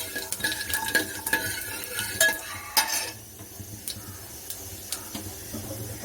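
Cumin seeds fry and crackle in a hot pan while being stirred for South Indian sambhar, a steady busy sizzle with repeated scraping and clinking of the spoon against the pan, close and continuous.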